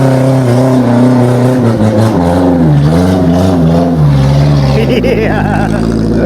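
A vehicle engine strains and revs hard while climbing a steep mountain slope in rural Indonesia with people riding on it for weight, the loud droning pitch rising and falling close by.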